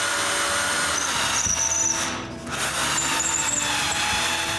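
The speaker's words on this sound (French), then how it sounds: "J'utilise une perceuse pour mettre les tiges en place." A power drill drives wooden rods into a wooden tripod, whining steadily at close range with a brief dip partway through before picking up again, with no talking.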